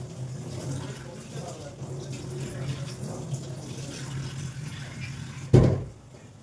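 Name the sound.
tap water running while washing things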